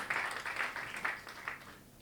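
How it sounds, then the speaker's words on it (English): Brief applause from a design-week keynote audience, a dense soft clatter of many hands that swells in waves and fades out within about two seconds. "And round of applause."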